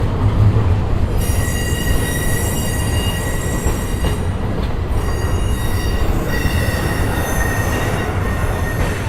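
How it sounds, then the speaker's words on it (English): A long train rolls past close by in downtown Miami, a loud continuous rumble of wheels on rails with high, drawn-out squealing from the wheels rising and fading throughout. "Yeah, it seems like this train is going on forever."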